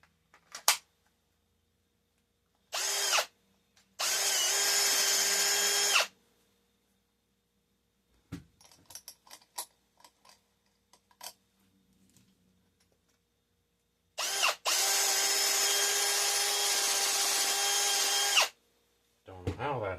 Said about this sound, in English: I gotta drill the hole just a little bit bigger.